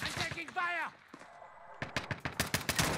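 Gunfire in the video game Call of Duty: Warzone: a short spoken bit is followed by a fast string of sharp, loud shot bursts filling the second half.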